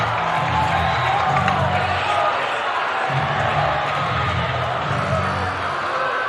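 High school boys basketball crowd cheering and roaring steadily after a game-tying long three-pointer, a dense wash of voices filling the gym at full loudness throughout.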